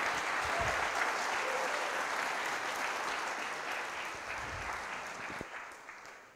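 Applause from a conference audience greeting two speakers before a tech talk, full and close at first, then gradually thinning and fading toward the end.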